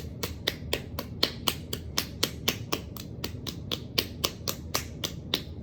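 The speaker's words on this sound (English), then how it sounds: "we're going to give our foot a little round of applause, just kind of clapping up and down" Rhythmic hand pats strike a bare foot during a yoga session, roughly four crisp slaps per second in a steady even pattern, close and fairly quiet with no talking.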